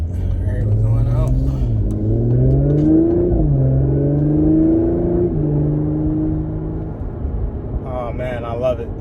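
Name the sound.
Audi S5 coupe engine accelerating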